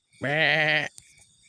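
A goat gives one loud, drawn-out bleat close by, lasting under a second, followed by a few faint clicks and near silence.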